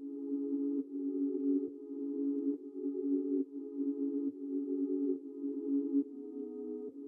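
Soloed Jupiter 8 Ariana Chords synth preset from Analog Lab, the same simple chord repeated in even sustained blocks, one changed note near the end, played alone and fairly soft.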